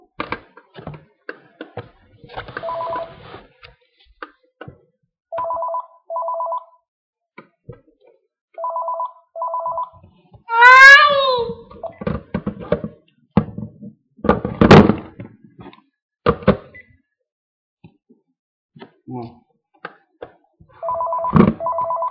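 A telephone rings in short repeated double bursts with pauses between them, loud and close, while knocks, thuds and a door slam sound around it in a busy room.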